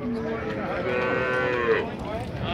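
A cow lowing at a cattle fair, one long drawn-out moo that rises and falls over about two seconds, fairly close, with crowd murmur in the background.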